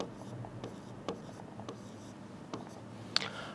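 A pen scratches across paper while equations are written out by hand. The strokes are soft, close and irregular, with light taps and short scribbles in a quiet room.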